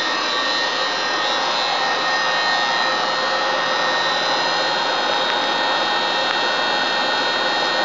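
A 17 by 60 inch Acer E-Series geared head engine lathe turns at about 150 RPM, producing a continuous, even mechanical whir that stays level throughout with no talking over it.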